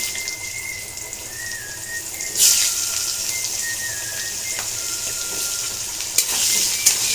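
Potatoes with cumin and radhuni sizzle steadily in hot oil while being stirred, a continuous broad hiss that rises louder partway through, with a few brief scraping knocks near the end.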